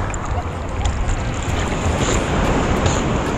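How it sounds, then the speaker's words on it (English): Large waves breaking in the warm Black Sea while someone swims offshore, a steady loud wash of surf mixed with wind rumble on the microphone across the whole stretch. "These waves are huge too"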